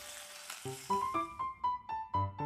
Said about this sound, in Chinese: 然后鸡皮可以煎得更香一点。